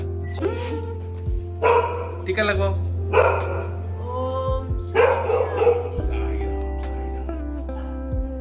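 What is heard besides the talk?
big dog barking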